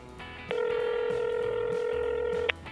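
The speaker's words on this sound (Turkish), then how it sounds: "Dur arayayım." Telephone call being placed: a single sustained ringback tone, clear and fairly loud, holding for about two seconds over a low room hum, with no speech.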